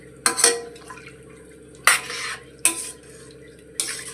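Prawn biryani being stirred in a cooking pot over a medium flame, giving a few separate scraping, clattering strokes of a spoon against the metal with quieter stretches between them, with no voices.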